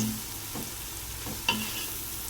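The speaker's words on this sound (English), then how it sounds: "Give it all a good mix and stir fry the veggies in the seasonings for around 2 to 3" Vegetables stir-frying with seasonings in a pan, a quiet steady sizzle with a few soft scraping stirs of the spatula.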